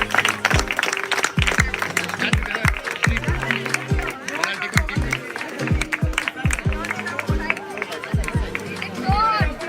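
A crowd claps and cheers for young players at a football cup presentation at an indoor arena in Kolkata; loud irregular clapping mixes with voices and crowd babble throughout.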